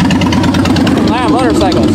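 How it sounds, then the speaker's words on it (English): Motorcycle engines rumble loudly and close by at the Seaside Heights boardwalk, a steady throbbing idle with a rising rev near the end. "Wow, motorcycles."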